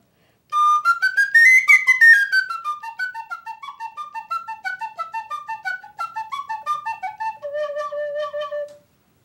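A bright penny whistle with a wood plug plays a quick upward slide, then a run of short tongued notes stepping downward, ending on a held low note.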